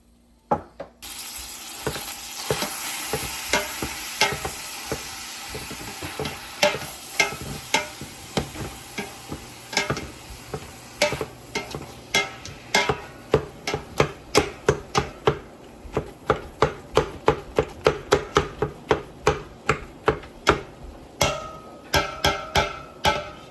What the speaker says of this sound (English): this is a meat mixer